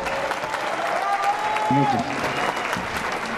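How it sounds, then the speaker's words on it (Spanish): Loud audience applause at a guitar festival in Capilla del Monte, a dense steady wash of clapping that carries through the whole stretch while someone speaks over it. "Fuerte el aplauso, vamos."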